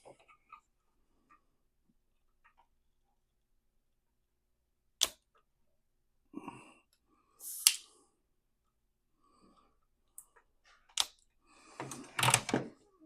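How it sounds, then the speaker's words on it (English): Flush cutters snip the metal legs off LEDs during an LED replacement in a Sega CD, giving a few sharp, isolated clicks spread over near silence, followed by a cluster of faint handling ticks. "And I'll cut the LED E-legs off."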